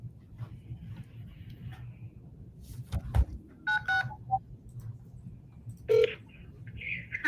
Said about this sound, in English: Okay, I'll double dial her.